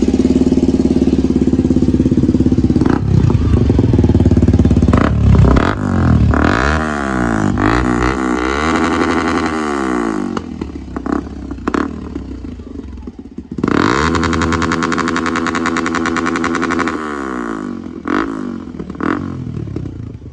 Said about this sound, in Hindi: सो ऐसा कुछ साउंड हमको देखने को मिल गया है R1M Akrapovic में।